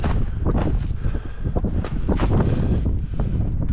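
Strong gusting wind roars against the microphone at a winter camp, loud and continuous with buffeting surges throughout.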